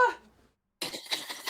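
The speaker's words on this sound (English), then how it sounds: "I have to sneeze." A single sharp, explosive sneeze bursts out close to the microphone after a short silence, trailing into a noisy exhale.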